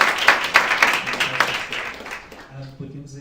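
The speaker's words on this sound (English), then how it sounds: "Can I please get another round of applause for the" Audience applause for a session at a Global Entrepreneurship Week event, a dense patter of many hands that is loud at first and thins out toward the end as a voice starts to come in.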